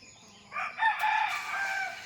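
A rooster crows once, a drawn-out call rising from a quiet start and holding steady before trailing off, fairly close by.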